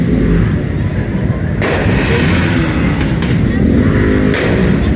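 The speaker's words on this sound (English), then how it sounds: "Tons of motorcycles." Motorcycle and car engines rumble and rev nearby on a busy street at night during a motorcycle meet in central Morelia, Mexico, with constant traffic noise throughout.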